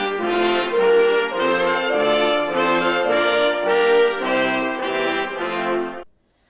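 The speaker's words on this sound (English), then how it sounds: "the Promenade Theme is the melody that represents Mussorgsky walking from one painting to the" Promenade Theme from Mussorgsky's Pictures at an Exhibition played as a stately orchestral passage, a steady sequence of full sustained chords moving in even steps before cutting off cleanly.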